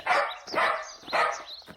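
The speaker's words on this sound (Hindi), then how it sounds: "तभी अचानक उनके कानों में कुत्ते के भौंकने की आवाज पड़ती है।" A dog barks three times in quick succession, loud and close, followed by a short clipped sound at the end, with no voices.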